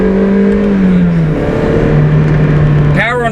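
A 1999 Mazda Miata NB accelerates from inside the cabin, its engine a steady, loud droning hum that climbs in pitch through the pull, with a brief whirring rise near the end.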